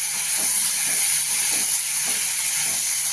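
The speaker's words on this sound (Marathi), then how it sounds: "हे टोमॅटो आणि मिरची परतून घेणार आहोत परतून परतून घेणार" Tomatoes and green chillies sauté in a little oil in a pan, giving a steady, close hiss of sizzling that runs without a break and with no talk.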